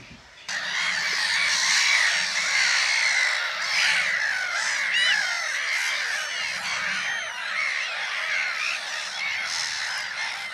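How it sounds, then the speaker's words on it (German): Black-headed gulls, herring gulls and common gulls call continuously at the Wallnau waterfowl reserve, a dense, loud chorus of overlapping squawks and cries with ducks in the background, heard from a bird hide. "Lachmöwen, Wildermöwen und Sturmöwen"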